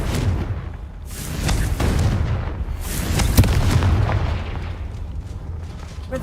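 Confringo fire spell explosions in Hogwarts Legacy, a run of heavy booming blasts and bursts rolling one after another with rumbling low ends, loud and close in a combat scene.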